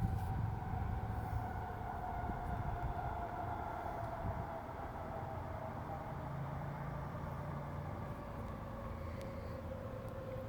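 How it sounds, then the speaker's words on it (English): A train passes at a distance as a steady, low rumbling roar that holds for several seconds and then slowly fades, with no talking. "When the train goes by,"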